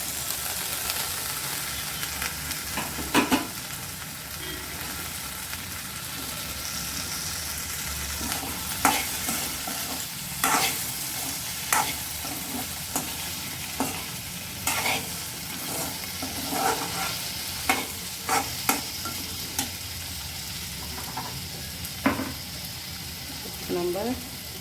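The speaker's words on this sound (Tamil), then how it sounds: "வதக்கிட்டு வெண்டைக்காய் அதில் போட்டுக்குவோம்." Okra sautéing in a pan with chilli powder, a soft continuous sizzle broken by intermittent spoon clicks and scrapes as it is stirred, fairly close, with no talk.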